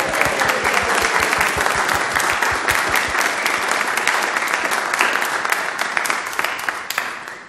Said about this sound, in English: let's say a big cheer for them and a round of applause.